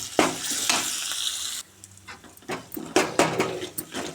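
Ginger frying with turmeric in a pan, a loud close sizzle with scraping stirring strokes, briefly dropping quieter before surging back into vigorous crackling and spatter.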